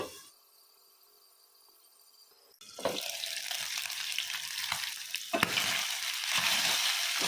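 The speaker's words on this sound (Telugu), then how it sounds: "సో ఇవాళ స్పెషల్ చికెన్ ఫ్రై ప్రిపేర్ చేస్తున్నాను. అందులోనే special my favourite non stick తవా మీద మూత పెట్టి కుక్ చేసుకుందాము." Chicken pieces frying under a lid on a non-stick tawa, a steady close sizzle that starts abruptly after a quiet moment and continues with bursts of crackling.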